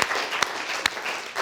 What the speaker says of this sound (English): Should we have one last round of applause for all the Indonesians today?